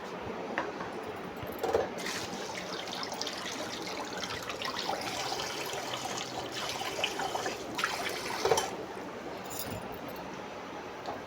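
Hands being washed under a running kitchen tap, a steady trickle and splash of water lasting throughout with a couple of louder splashes, close by and with no talking.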